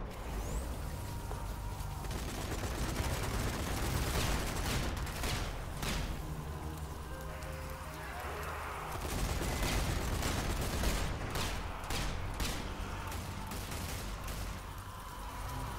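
Machine gun fire in Zombie Army 4: Dead War, loud close bursts of rapid automatic shots mixed with heavier booms and impacts, repeating in clusters over roughly fifteen seconds of chaotic battle noise.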